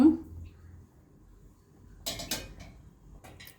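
A metal lid is set onto a cooking pot with a brief double clatter of clinks, following quiet kitchen background, with a voice faintly present at the edges.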